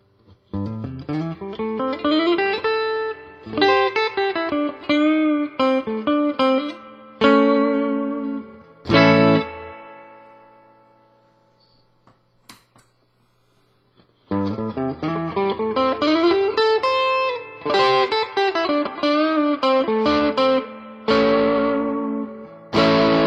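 A 2018 Fender American Performer HS Telecaster through its humbucker with distortion, playing chord riffs and single-note runs, with a pause mid-way as one sustained note fades out before the playing resumes.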